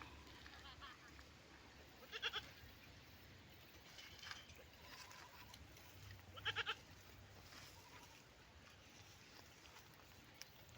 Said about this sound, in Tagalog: Ayun yung kambing kong isa.